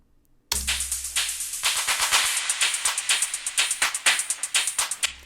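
A rapid series of sharp, crisp percussive hits plays alone, the strikes steadily growing in loudness as the pattern rolls on.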